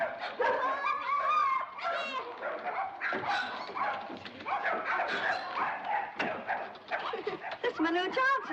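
Several dogs bark and yip in quick, irregular bursts at close range, mixed with whimpering, while people talk over the commotion.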